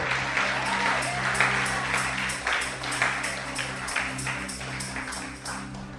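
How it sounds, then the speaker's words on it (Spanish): Steady applause from a sizable church congregation rolls on without pause over a low, sustained musical hum. "Un aplauso fuerte al Dios que vive."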